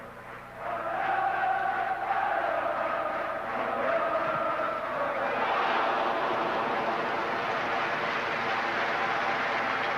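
A football stadium crowd at a Bayern Munich versus Borussia Dortmund match swells into a loud, sustained roar of oohs after a shot on goal, the broad crowd noise rising quickly and holding steady.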